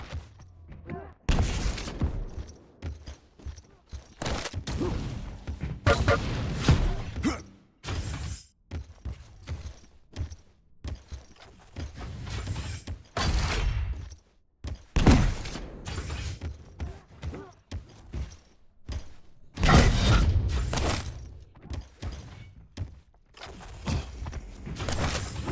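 Rocket launcher blasts and explosions in a Quake Champions duel match: repeated loud, sharp bursts at irregular intervals, mixed with jumps, footsteps and clanking game effects throughout.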